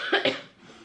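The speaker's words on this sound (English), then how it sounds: "this cough is that bad that my head is actually hurting when I cough now" A person with a bad, lingering cough gives two quick, harsh coughs close to the microphone, followed by a quiet breath.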